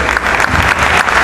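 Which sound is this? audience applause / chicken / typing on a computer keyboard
audience applause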